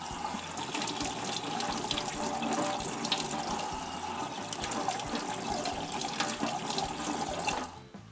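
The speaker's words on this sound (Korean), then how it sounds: "내장하고 전복은 살짝 한번 씻어주겠습니다" Tap water runs steadily into a sink, rinsing abalone and its innards, a continuous close splashing rush that stops abruptly at the end.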